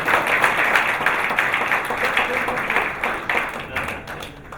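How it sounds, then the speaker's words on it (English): A conference audience at the Punuka Annual Conference in May 2019 claps vigorously in a dense, continuous burst of applause, staying loud before gradually thinning toward the end. "give him a rousing applause."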